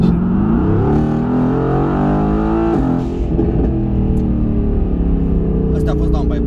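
A Mercedes-AMG GT R Pro with aftermarket downpipes idles and revs with a deep, throaty burble, the exhaust rumbling loudly up close with a brief dip midway.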